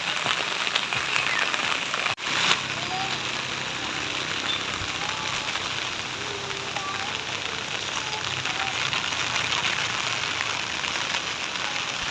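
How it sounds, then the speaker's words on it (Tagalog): Steady typhoon rain pattering on a surface, a dense continuous hiss of drops with a brief dip early on, no voices. "Ulan na"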